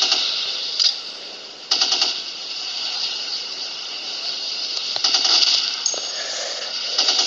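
Gunfire in the mobile shooting game Modern Sniper, a few sharp clipped shots spaced apart over a constant hissing game ambience, with no voice.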